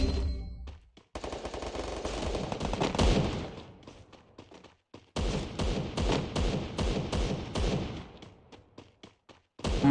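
Rapid automatic gunfire from the video game Garena Free Fire, dense bursts of shots rattling almost continuously, close and loud, broken by a brief pause before another long volley.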